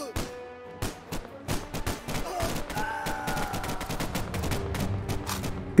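Rapid gunfire crackles in the video game Primal Dominion, sharp repeated shots in bursts with a few isolated single cracks, fairly loud and alone over a low game background.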